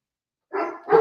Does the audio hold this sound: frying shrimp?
no